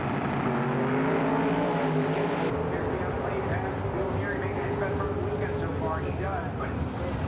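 Drag racing cars with 825 cubic inch carbureted engines and manual transmissions roar loudly and continuously, a droning engine tone that drops after a couple of seconds into a broad, rumbling blare, with an announcer talking over it.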